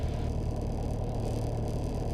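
A light training aircraft engine runs at about 1800 rpm, a steady, close, even drone with a low throbbing hum that holds constant throughout without any talk.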